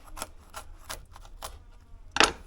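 A knife slices a jalapeno lengthwise on a cutting board, giving a few soft, evenly spaced cutting clicks and ending in a sharper, louder tap of the blade against the board.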